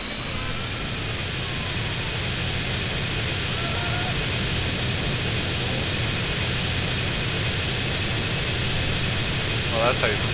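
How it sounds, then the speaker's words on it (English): Hydra jump jet engine in the Grand Theft Auto V video game, a loud constant roar with a high whine running through it, continuous from start to finish, with a brief bump near the end. "Jump jet."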